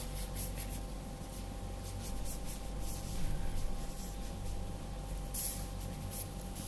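Erasing marks from a board during a microprocessor lab lesson, a steady close rubbing and wiping that continues without pause, with no one talking.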